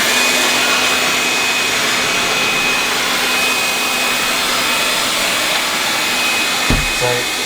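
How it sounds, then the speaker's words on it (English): A Lefant F1 robotic cordless vacuum cleaner runs in auto cleaning mode, a steady close whirring hum with a high motor whine that holds level throughout, one brief bump near the end. "So if I just turn the vacuum on and then just set it to go."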